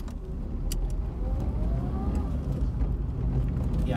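A soundproofed first-series Fiat Panda drives along a road at about 40 km/h, its low engine hum and road rumble steady and moderate inside the cabin.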